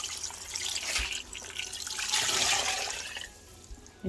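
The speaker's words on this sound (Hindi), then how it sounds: "ये देखिए, एक जग भर के हमने पानी डाल लिया है।" A jugful of water is poured into a cooking pot for beef nihari, a close, steady gushing splash that swells, then tapers off, no talking.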